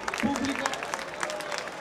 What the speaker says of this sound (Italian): Diamo i fiori alla istruttrice Euralizzi, un applauso, salutiamo il pubblico